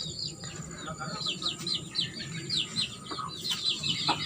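Chickens in a simple backyard coop with a wooden laying box cluck and chirp in quick, repeated calls, faint and mid-distance, over a low steady background rumble.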